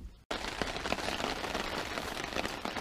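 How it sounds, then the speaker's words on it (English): After a brief cut, rain patters steadily and densely on a tent, a continuous crackling hiss with no voices. "It just keeps raining."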